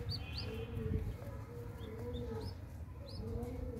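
A homing pigeon mother coos softly several times, her low repeated calls close by, while other birds chirp faintly and briefly in the background.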